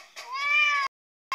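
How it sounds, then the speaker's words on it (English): Cat meows from the Battle Cats mobile game: a long, drawn-out meow followed by a pause and the start of another, clear and moderately loud with no talking. "make the cat noise of victory"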